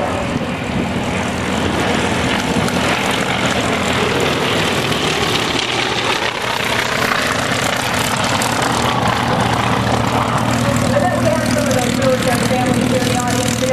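T-28 warbird propeller planes flying a formation demo at EAA AirVenture Oshkosh 2008, a continuous loud radial-engine drone with a swelling pass, under an announcer talking over a public address system.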